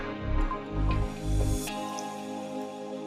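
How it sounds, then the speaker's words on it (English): Thick aloe vera gel pours into a frying pan with wet, squishy gloops and drips in a few close, soft bursts, then a quieter tail. "all my aloe vera is poured into my frying pan"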